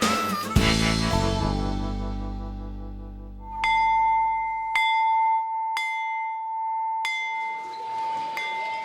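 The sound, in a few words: school bell ringing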